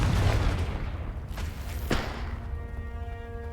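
A Confringo blasting spell explodes in Hogwarts Legacy with a heavy booming thud, a second sharper blast following about a second later, then a ringing tonal tail fading under the low rumble of combat.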